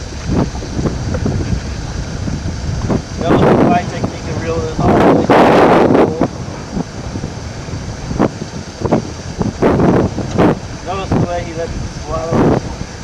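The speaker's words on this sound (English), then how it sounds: "Pretty windy out here today." Wind gusting across a lake during a walleye fishing trip, buffeting and roaring in uneven surges, strongest near the middle, while people talk now and then.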